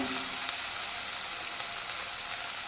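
Onions sautéing in a pan for spicy mushroom biryani give a steady, dense sizzle throughout, close and even, with no talking.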